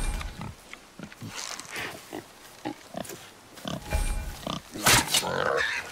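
A boar in the video game God of War (2018) grunts and snorts in rough, irregular bursts at close range, with a louder snort near the end and faint ambient noise.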